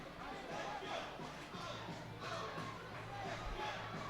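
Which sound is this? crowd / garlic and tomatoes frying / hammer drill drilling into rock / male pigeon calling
crowd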